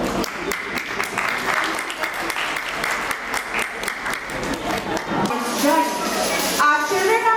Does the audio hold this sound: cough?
no